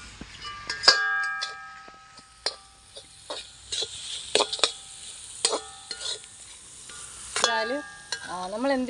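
Squid sautéing in a pan with turmeric and fennel, sizzling steadily with scattered sharp clinks and scrapes of a utensil against the pan, no one speaking.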